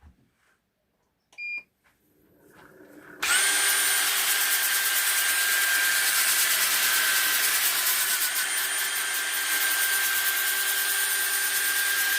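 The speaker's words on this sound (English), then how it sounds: "I'm going to start at 120 grit sanding, so I'll show you a bit of that now quickly" After a few faint clicks, a steady loud whirring and hissing starts abruptly and runs on without a break, with a high tonal whine, as a sycamore bowl is sanded on a lathe at 120 grit.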